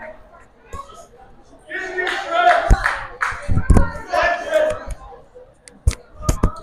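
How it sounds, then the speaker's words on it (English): A baseball crowd cheers on the Tigers at a varsity high school game, with bursts of clapping and shouts rising and falling at mid-distance, mixed with an announcer talking over the noise. "Decent amount of people in the crowd here still cheering on the Tigers after the loss earlier."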